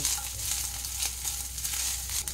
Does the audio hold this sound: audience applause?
no